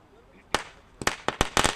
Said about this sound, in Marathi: फटाक्यांच्या अतिशबाजीने रमेशजी ठाकरे साहेबांचं या ठिकाणी स्वागत केले जाते.